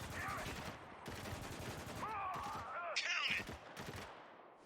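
Gunfire in the third-person shooter Spec Ops: The Line, a series of sharp rapid bursts of automatic fire with short gaps between them, loud and close, mixed with voices and game effects.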